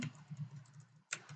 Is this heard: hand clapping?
no